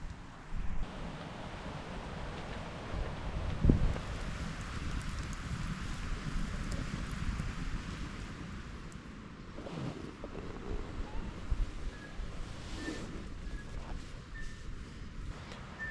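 Night wind sweeps down a valley into a bushcraft camp shelter, a steady rushing roar with gusty swells and buffeting against the microphone, with no voices.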